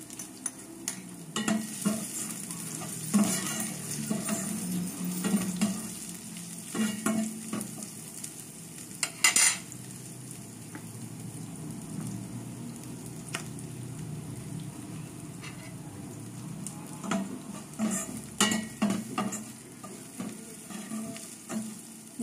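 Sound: onions sautéing in a pan

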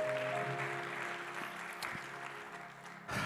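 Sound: church congregation applause

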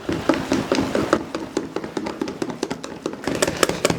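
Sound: whisking crepe batter with vanilla

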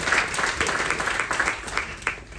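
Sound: audience applause

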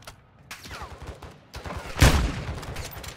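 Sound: gunfire in the video game Call of Duty DMZ

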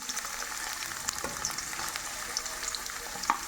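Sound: ginger and raw turmeric slices sizzling as they roast in oil

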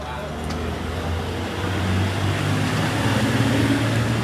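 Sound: car traffic noise from roadside street

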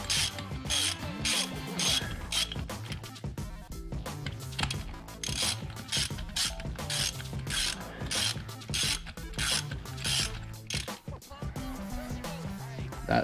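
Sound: backing off a nut on airbag coilover install

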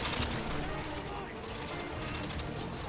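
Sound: gunfire in video game Call of Duty: Modern Warfare 2

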